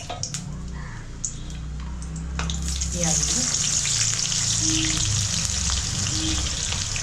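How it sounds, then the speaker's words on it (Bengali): Whole spices are fried in plenty of oil for chicken Afghani chap. A quiet start gives way to a loud, steady hiss with close crackling and occasional pops. "গোটা মশলা দেওয়ার পর দিয়ে একটু ভাজা ভাজা হবে"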